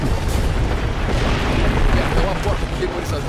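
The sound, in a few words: heavy gunfire in a video game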